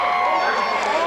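A crowd at a 2004 high school football game between Argonaut and Amador roars in a steady, dense wash of cheering and shouting from the stands, loud and continuous throughout.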